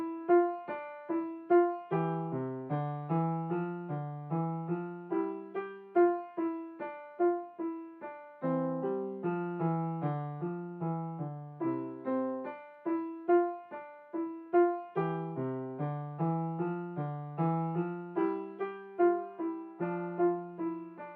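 A two-hand echoing exercise on a pitched instrument, played at a brisk tempo and beginning on E, with steady, evenly spaced notes in overlapping phrases that answer each other, clear and close with no talking.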